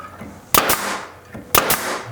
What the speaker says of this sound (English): shoot some brads in